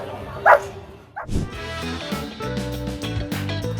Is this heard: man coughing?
no